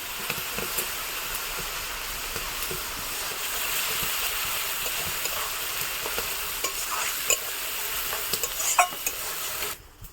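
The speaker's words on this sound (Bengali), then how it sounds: "এবার আদা রসুন বাটাটা এর মধ্যে দিয়ে দেবো আর পেঁয়াজের সঙ্গে খুব ভালো করে ভেজে নেব।" Onions sizzle in a pan with ginger-garlic paste added, a continuous crackling fry under frequent scraping and clinking of a spoon against the pan, ending with a sudden stop.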